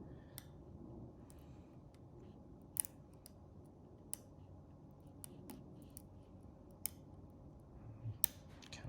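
A Master Lock No. 150 padlock being picked with a tension wrench and a standard hook pick: faint, close metallic clicks and ticks scattered at an irregular pace over quiet background hiss.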